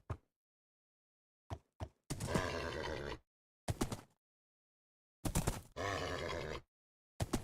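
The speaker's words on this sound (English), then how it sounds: "Here's a horse." A horse in Minecraft Bedrock Edition gives several short grunts and neighs in separate bursts with silent gaps between them, close and clear, with no talking.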